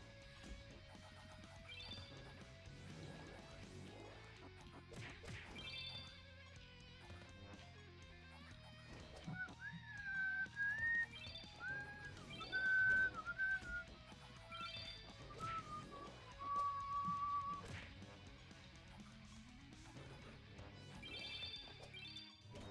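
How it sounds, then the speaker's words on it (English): A person whistles a short melodic phrase, picked up faintly by a microphone beneath busy, clattering Siralim Ultimate game audio, with the whistled notes most distinct in the middle stretch. "apparently my mic picks up whistling now"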